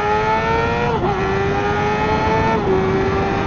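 Riding at highway speed around 100 mph, captured on a GoPro Hero 12 wireless mic paired with a Sena headset: loud, constant wind roar with a droning engine tone that dips slightly in pitch, no voices.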